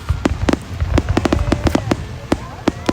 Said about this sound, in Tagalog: ang mga fireworks